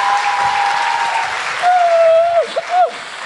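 Loud audience applause and cheering for a contestant on a TV cooking show, with sustained clapping, shouts and sharp rising whistles standing out near the end.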